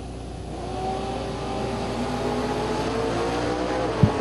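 Bracket drag race cars, including a Silver Nova, launch down the track with a sustained engine drone at moderate distance, ending in a brief thump.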